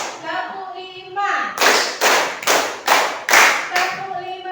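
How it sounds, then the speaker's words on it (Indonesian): Five sharp, evenly spaced hand claps ring out loud and close in a classroom, with a voice talking before and after them. "coba bisa niru tepuk Ibu ya"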